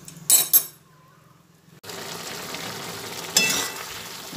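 Vegetables hit a hot pan with a couple of sharp utensil clinks, then a short lull, followed by a steady stir-fry sizzle with an occasional louder stirring scrape.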